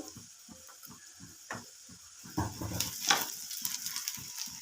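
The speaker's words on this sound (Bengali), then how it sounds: "আদাটা এভাবে পেঁয়াজের সঙ্গে মিশিয়ে ভেজে নিচ্ছি" Ginger and onion fry in a pan for a brinjal dish: a steady close sizzle under regular rhythmic scraping and stirring strokes, growing louder and busier partway through.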